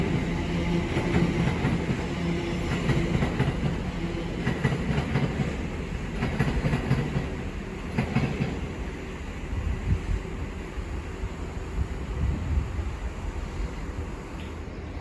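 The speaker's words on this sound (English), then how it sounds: "Now departing is the 12:51 TfL rail service from Reading to London Paddington" A TfL Rail service pulls out of Reading station on the Great Western Main Line, a steady loud rumble of wheels and carriages with rhythmic clatter over the rails, continuous and close throughout.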